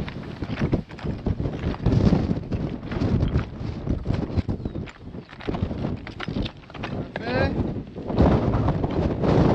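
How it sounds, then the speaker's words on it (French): Strong wind on a hike beside the Strait of Magellan, gusts buffeting the microphone with a heavy rumbling roar that rises and falls, along with crunching footsteps and people talking. "Oh, par contre, il y a un sacré vent."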